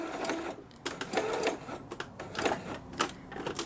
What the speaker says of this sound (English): you're going to stitch all the way down to the end and then you'll do a back stitch